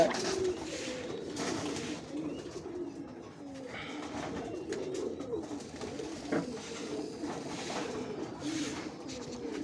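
Soft, continuous pigeon cooing with several birds murmuring at once, steady and moderately close, with faint rustling in the background.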